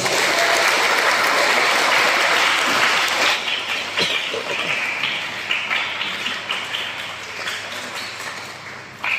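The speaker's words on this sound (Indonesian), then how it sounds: "Tepuk tangan dulu." Audience applause at a national-insight briefing for PSHT candidate members in Madiun. A loud burst of clapping from a large crowd swells at first, then thins into scattered claps and gradually fades.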